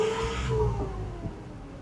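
A new Eicher truck's engine hums and revs briefly on a trial run through a ghat section near Chikkamagaluru, a steady droning note that fades slightly before a small rise near the end.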